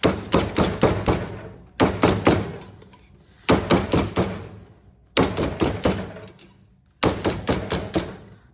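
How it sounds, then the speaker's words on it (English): Sharp metallic hammer taps on wire over a mandrel stake in quick bursts of four or five strikes, separated by short pauses, close and crisp. "I'm also only hammering on the wire, never on the body."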